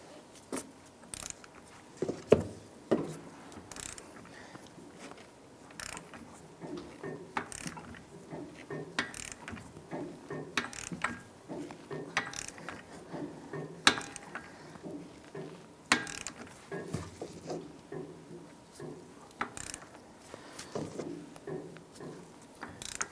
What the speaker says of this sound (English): We're going to go ahead and torque down our axle nut to 221 foot-pounds.